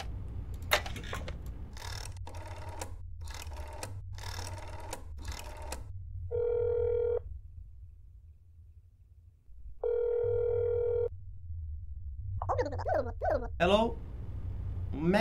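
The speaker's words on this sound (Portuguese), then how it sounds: "Vou ligar lá no apartamento dele, tá?" Calling an apartment in the video game That's Not My Neighbor brings two long electronic ringing tones separated by a silent pause. Voices talk before and after the rings.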